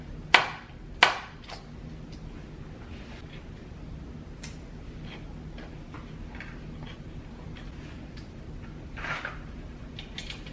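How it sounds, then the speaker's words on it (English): Small screws being undone and set down during a Ryzen 7 1700 mini PC workstation build, heard as two sharp metallic ticks near the start and then lighter scattered clicks and taps, close and quiet with no talking. "you want to undo 1, 2, 3 screws, so you can put your graphics card in there."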